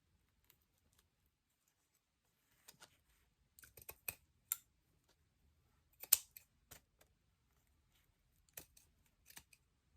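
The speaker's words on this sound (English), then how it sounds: "Oh, I cut some of the threads." Scissors snipping through threads while junk journaling, with sparse sharp clicks scattered irregularly across a quiet room, some in quick little clusters and others single.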